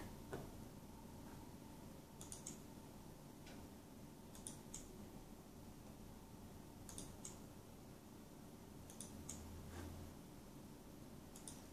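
Scattered keystrokes on a PiPO Max-M9 Pro 3G tablet setup with a keyboard, typing into a web search, come as faint, irregular clicks spread over a quiet room hum, with no voices.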